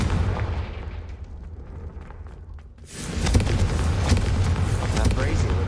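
A Confringo fire blast spell cast in a Harry Potter video game: a short hiss and rumble, a brief dip, then a loud sustained explosive roar with crackling bursts, with speech faintly underneath.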